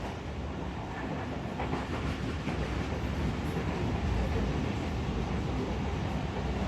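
Shalimar Express passenger train running on rails past Abdul Hakim station after a flood, heard from inside as a steady, loud rumble and roar that continues throughout with faint rhythmic clatter.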